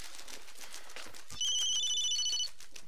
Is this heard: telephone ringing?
yes